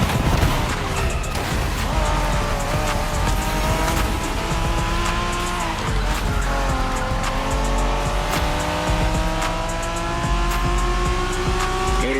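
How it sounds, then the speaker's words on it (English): Cars street racing in the video game The Crew Motorfest, Japanese-style, with loud revving engines and screeching tires as the cars accelerate and shift, a constant close roar throughout. "We're going for some proper Japanese street racing."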